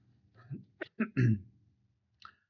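A few short, harsh coughs or throat-clearing bursts in quick succession, close and fairly quiet, followed by one smaller cough after a pause.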